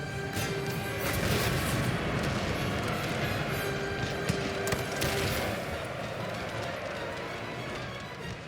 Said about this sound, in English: Those are some pretty potent cannon in the end.